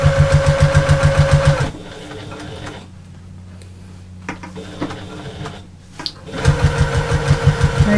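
A sewing machine runs in two fast, rhythmic bursts of stitching across a bag's shoulder seam, loud and close, with a quieter pause of fabric handling between them.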